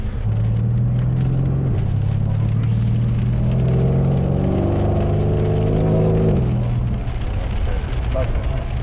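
A 630-horsepower Mercedes C63 AMG heard from inside while driving, its engine droning steadily and rising in pitch through the gears over constant road rumble.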